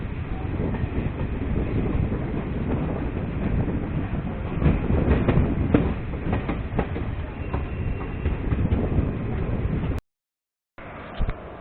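The Mussoorie Express rolls into Doiwala station on the Delhi–Dehradun line, a steady loud rumble of rail cars with clickety-clack wheel beats and occasional squeals, then a brief cutout before the train noise resumes.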